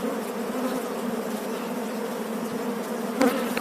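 Thousands of honeybees swarm around beehives, a dense continuous buzzing hum surrounding the listener at close range, steady throughout with a brief louder pass near the end.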